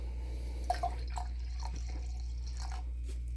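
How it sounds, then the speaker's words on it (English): Water poured into an empty Disney Snow White snow globe, heard as a few light, close drips and trickles over a steady low hum. "I'm going to go ahead and add just a little bit more water to it"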